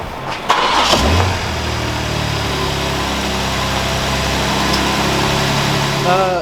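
A BMW G81 M3 Touring, a salvage car with a suspected gearbox leak, cranks and starts with a loud burst near the one-second mark, then settles into a steady, close idle that carries on to the end with no one speaking.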